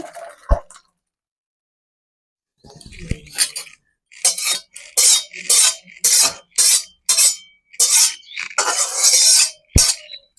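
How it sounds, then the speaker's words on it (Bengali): Cooked dal scooped from a wok into a vessel in a village kitchen: a run of bright metallic scrapes and clinks comes in quick, regular strokes, close and clear, after a brief quiet. "ডালটাই পাত্রে ঢেলে নেবো আমি"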